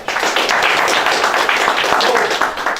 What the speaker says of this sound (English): So one more round of applause for you all